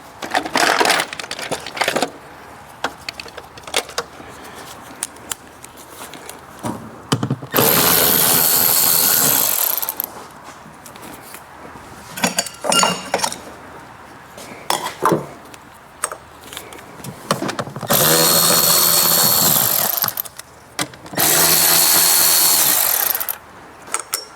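Several bursts of a power tool spin loose 8 mm bolts on a BMW, the loud whirring runs separated by quieter clinks and handling of parts and tools.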